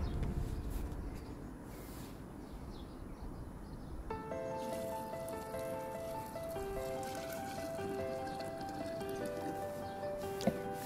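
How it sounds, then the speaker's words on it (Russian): One litre of hot water being poured into a jar holding boric acid solution and granulated bird droppings, a soft trickling fill with a rising tone as the jar fills, quiet and close. "И добавляю 1 литр горячей воды."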